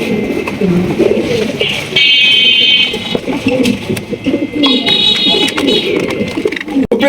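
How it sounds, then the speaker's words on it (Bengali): Soft, throaty cooing from a pair of sky-blue gola pigeons close by, repeated rolling coos interspersed with brief higher trills, with a person talking over parts of it. "একজোড়া খুবই সুইট খুবই সুন্দর একজোড়া গররা কবুতর"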